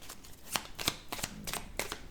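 Oracle cards being shuffled by hand, a run of crisp riffling bursts repeating at a quick, uneven rhythm, close and fairly quiet with no talking.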